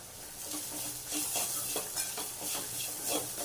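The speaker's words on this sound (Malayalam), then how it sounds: "കുരുമുളകിൻ്റെ ആ കുത്തലൂടെ ഒന്ന് പോണത് വരെ ജസ്റ്റ് ഒന്ന് വഴറ്റാം" Beetroot stir-fried with black pepper powder and green chilies in a pan, a steady close sizzle broken by repeated scraping and stirring strokes of a spoon against the pan.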